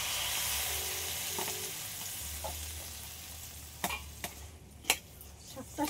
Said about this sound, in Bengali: শাকটা সিদ্ধ হওয়ার মতো জলটা দিয়ে দিলাম